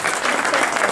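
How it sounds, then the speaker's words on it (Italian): An audience applauds the mayor at an inauguration ceremony in Bitonto, a brief dense wash of clapping from a crowd, loud and continuous. "facciamo un applauso al nostro sindaco che è riuscito a raggiungerci"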